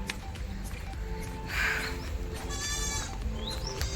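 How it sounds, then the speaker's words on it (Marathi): A young goat bleats a couple of times close by, high and wavering, over a quiet outdoor background. "शेळीचं पिल्लू आहे ना माझ्या मागं येते बघा"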